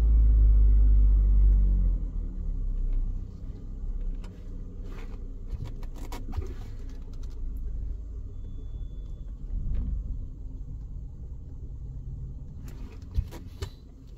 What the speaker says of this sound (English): Right, I'll drive forward towards the van.